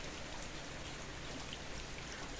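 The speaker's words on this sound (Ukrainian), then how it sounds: "Оце вже повинен пролити дощик землю." Steady rain falls outdoors in a country yard, a dense, even patter with soft drips, continuous and fairly quiet, with no voices.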